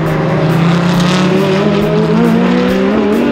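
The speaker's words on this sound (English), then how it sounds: "8 FIA GT3 cars set to line up for the 3-hour race" FIA GT3 race cars in a three-hour South Island Endurance race: loud, close engine drone with steadily rising and shifting pitch as a car accelerates, sustained throughout with no pauses.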